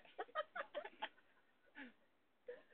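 Chickens cluck in a series of short, close, moderately loud bursts, a quick cluster at first, then two more isolated clucks after brief pauses.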